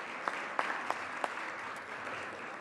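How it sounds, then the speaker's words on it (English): Applause rises in a state Senate chamber during a floor session, a steady wash of clapping from many hands with a few sharper isolated claps standing out near the start, moderately distant and even in level throughout. "Another round of applause"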